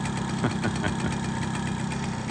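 A Motomarina Sebring engine idles steadily with a slightly knocking, vibrating mid-pitched chug, close and alone, without talk.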